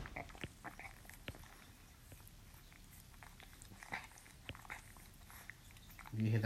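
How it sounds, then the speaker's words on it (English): A dog licking her paws nearby makes soft, irregular wet smacks and clicks, quiet and close, scattered over faint room noise, with a brief louder thump at the very end. "If you hear that sound of licking, that's my dog licking her paws."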